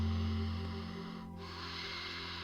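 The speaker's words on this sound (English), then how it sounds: "The loud breath we call Ujjayi breath." Loud, steady Ujjayi yoga breathing drawn in and out through the nose during a hip stretch, a continuous close breathy hiss with one brief pause partway through.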